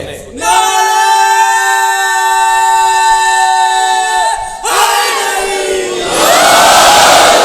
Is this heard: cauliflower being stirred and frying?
no